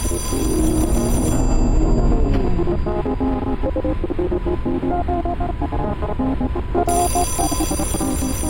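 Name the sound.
telephone ringing in the video game Echostasis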